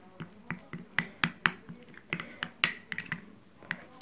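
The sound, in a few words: mixing yogurt in a bowl with a spoon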